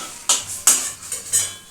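Fried pointed gourds lifted one by one from a pan, giving four clinking metal-utensil scrapes against the pan in quick succession, close and fairly loud, with no talk.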